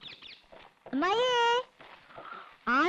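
A cat meows up on the loft, giving two drawn-out rising meows with muffled voices talking in between them.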